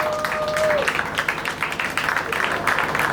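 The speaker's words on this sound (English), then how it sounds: "Please let's stand up and give me a round of applause." A standing audience at a clinic's sixth anniversary event gives a round of applause, steady dense clapping filling the short stretch with some voices mixed in.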